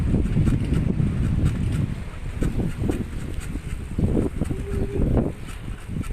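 Morning wind blows along the Mekong River bank, a continuous rushing outdoor ambience with some soft low thumps and no talking.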